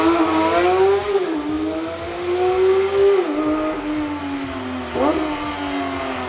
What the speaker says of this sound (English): You can straight pipe that Goldwing and it will sing.